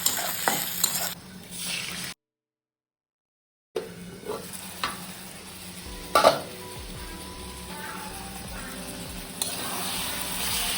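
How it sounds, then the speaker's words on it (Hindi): Potato pieces fry in a pan ahead of a fish curry, a steady hiss and sizzle with intermittent scraping and stirring clatter near the mic, a brief silent gap partway through. "मछली के लिए मैं पहले आलू फ्राई कर लेती हूँ।"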